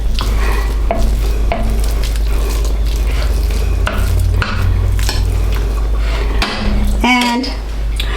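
Meat and onions for chili sizzle loudly in a pan, with a steady frying hiss, scraping and stirring clatter from a utensil against the cookware, and a voice speaking over it.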